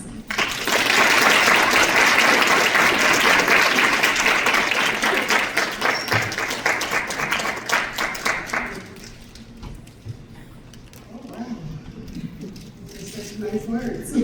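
Audience at a nursing graduation ceremony in Atlanta applauds to welcome speaker Nina Nelson, a loud, dense wash of clapping that fades out, leaving softer room noise and scattered claps.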